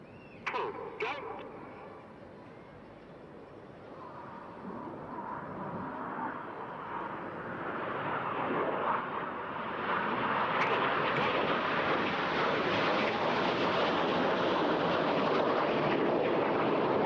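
Red Arrows jets dive and roll low over the sea at the Eastbourne airshow, their broad, rushing roar swelling steadily from a distance into a loud, sustained sweep.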